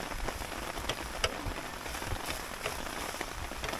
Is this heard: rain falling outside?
yes